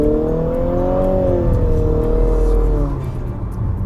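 2022 Infiniti QX55 launching from a standstill at full throttle, its engine rising in a smooth, sustained drone as the CVT holds revs, loud and close, then easing off near the end.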